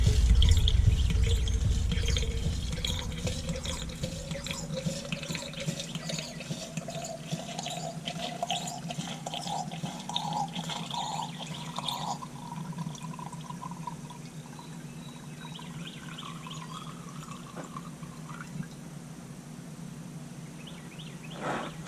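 Water-contaminated fuel trickles and splashes steadily from a tank for about twenty seconds, a continuous draining flow with a heavier gush at the start, no voices.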